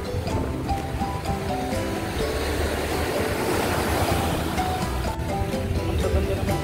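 Continuous wash of waves breaking on a white sand beach in Misamis Oriental, a steady loud roar of surf filling the whole stretch without pause.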